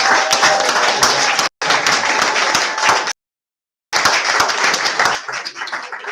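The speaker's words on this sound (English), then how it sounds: "So please give yourself a huge round of applause" Audience at a charity auction claps in a loud, dense burst of applause, broken by two brief cuts to silence, then tapering slightly toward the end.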